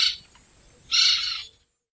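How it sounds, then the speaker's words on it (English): A woodpecker gives two sharp, high, harsh call bursts, a short one followed by a longer, louder one, alone against quiet. "W is for woodpecker."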